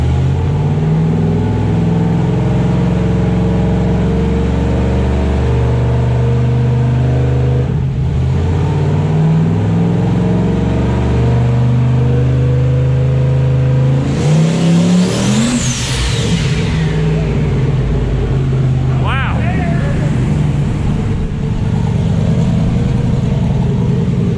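A car fitted with an 88mm turbo revs on a dyno, holding a loud, steady engine drone throughout and climbing into a harsh, rising wail near the middle before dropping back, with a second short rev burst toward the end.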